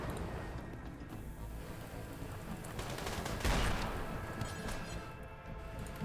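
Video game battle gunfire crackles in dense, overlapping bursts at moderate distance, rising to a heavy volley midway and then thinning out.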